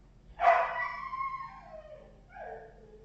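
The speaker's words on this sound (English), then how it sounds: "the little one's getting the big one to start barking too. And he's a husky, so he's not quiet" A husky howls and yowls in a long, drawn-out, wavering cry, joined by a smaller dog's barking, with a second shorter howl following; loud and close indoors, with no talk over it.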